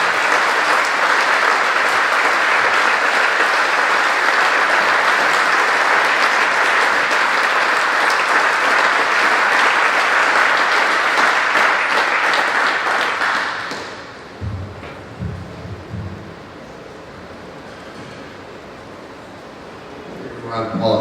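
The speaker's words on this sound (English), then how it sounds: "Round of applause for this." Loud, sustained applause from a hall of fame induction audience fills the first thirteen seconds, then cuts off abruptly, leaving quiet room tone with a few low thumps.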